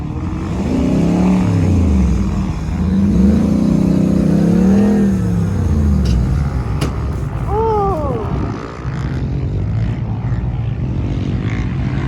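A Jeep Grand Cherokee and a Toyota Land Cruiser are bogged down in sand at Silver Lake Sand Dunes. Their engines rev loud and close in repeated rising and falling surges, then settle into a rougher, lower idle.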